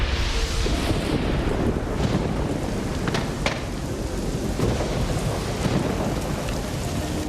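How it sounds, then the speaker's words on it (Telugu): Heavy rain pours steadily while low thunder rumbles and cracks through the downpour, loud and close, with no voices. "వర్షం వల్ల మంటలు ఆరిపోతాయి"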